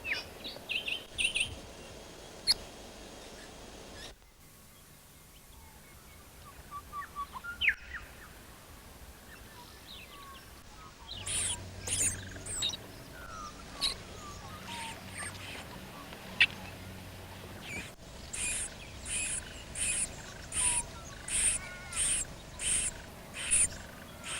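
Half-grown fledglings call at a nest in Australia: scattered chirps and peeps, a quieter stretch, then a run of repeated, fairly regular cheeping calls growing busier toward the end, faint over a low background.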